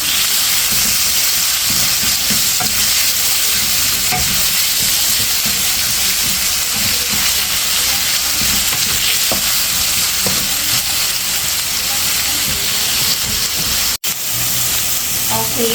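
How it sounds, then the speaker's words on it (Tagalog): Onions and garlic sautéing in a frying pan, a loud, steady sizzle and hiss with occasional stirring scrapes, close up and continuous, with brief talk mixed in. "O, gisa tayo ng sibuyas. Sabay ko na yung naninigas naming bawang."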